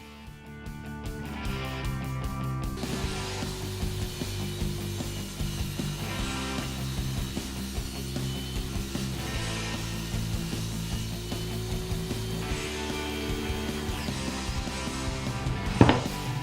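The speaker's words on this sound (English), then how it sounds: "I made some 45-degree cuts on the box so it wouldn't have any visible seams or fasteners" Steady hand or power sawing through scrap MDF to make 45-degree cuts for a box, a continuous close rasping drone that runs unbroken, ending with a brief sharp clack.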